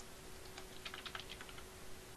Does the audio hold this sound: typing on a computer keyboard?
yes